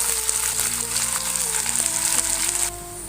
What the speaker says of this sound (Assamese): এতিয়া মই ইয়াত মিহিমিহিকে কাটি থোৱা পিয়াজখিনি দি দিম পিয়াজখিনি ভাজিব লাগিব